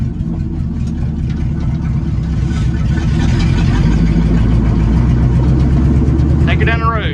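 A 1966 C30 truck engine runs at a steady, heavy low rumble close by. Its idle throbs evenly throughout, and a brief high squeal is heard near the end.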